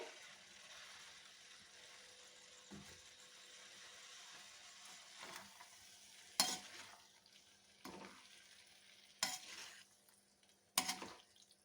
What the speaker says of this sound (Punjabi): ਹੁਣ ਅਸੀਂ ਇਹਦੇ ਵਿੱਚ ਪਾਸਤਾ ਪਾ ਦਾਂਗੇ